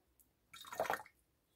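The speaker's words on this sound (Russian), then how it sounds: "И долью воды" Water is poured into a container during a silver and palladium recovery from electrical contacts, a faint short trickle lasting about half a second against near silence.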